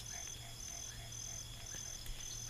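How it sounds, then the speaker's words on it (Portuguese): At a night campsite, crickets chirp in steady repeating trills with faint croaking frogs and distant calls under a low hum, a quiet background chorus without speech. "O sapo coaxando. Pra mim é chiando. Os grilos cantando."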